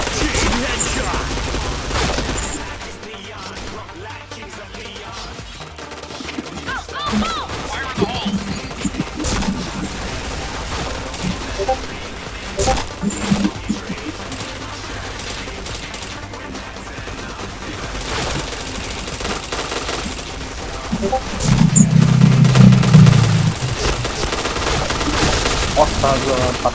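Rapid bursts of gunfire from a shooting video game crackle and rattle throughout, with heavier volleys near the end, while a player talks excitedly over the action.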